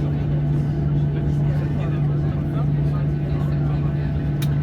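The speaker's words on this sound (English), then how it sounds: "so both engines are on." Jet engines of a Ryanair Boeing 737-8AS running on the ground, heard from inside the cabin as a constant loud drone with a strong steady hum and faint background chatter.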